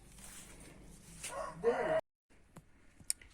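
A hen squawks and clucks loudly at close range over a low background murmur, then the sound cuts off, leaving faint clicks and rustles.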